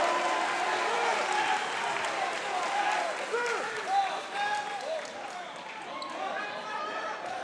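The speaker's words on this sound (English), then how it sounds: "the crowd goes wild" A basketball crowd roars and cheers after a slam dunk in an Arizona high school game, St. Mary's Catholic against Shadow Mountain, with dense sustained noise from the stands and shouted voices throughout.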